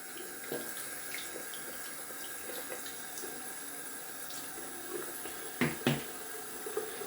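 A shaving soap puck is rinsed under a running tap, a steady close splash of water with a couple of brief louder splatters near the end.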